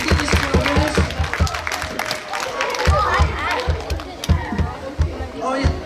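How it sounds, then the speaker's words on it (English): Clapping from an audience at a religious birth celebration, cheering quiz winners, with scattered claps, crowd chatter and voices mixed through it. "Round of applause for them,"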